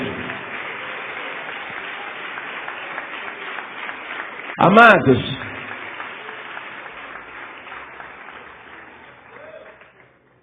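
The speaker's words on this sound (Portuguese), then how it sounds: "Vem para cá, vamos aplaudir mais, igreja" Church congregation applauding, a steady wash of clapping under a preacher's amplified voice, with one louder vocal burst midway before the applause gradually fades.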